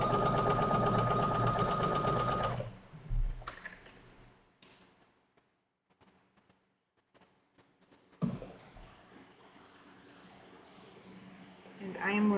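A sewing machine stitches a quilt block seam in a steady loud whir for about two and a half seconds, then stops; quiet handling and faint talk follow.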